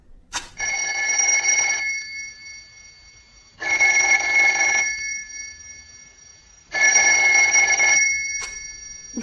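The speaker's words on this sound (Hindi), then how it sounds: "अचानक फोन की घंटी बजी।" A telephone bell rings in three separate bursts, each about a second long and separated by pauses, loud and clear in an otherwise quiet room.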